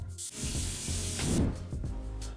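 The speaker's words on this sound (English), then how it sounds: "it's all dirty, so I'll have to rinse it" Water from a tap sprays and hisses steadily over a dirty ceramic incense cone holder as it is rinsed, a close, continuous wash lasting a couple of seconds with no talking.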